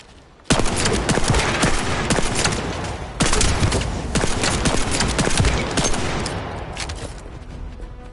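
Hand cannon fire in the sci-fi shooter The First Descendant: a dense, continuous barrage of loud shots with a second burst starting a few seconds in, firing steadily to the end with no voices.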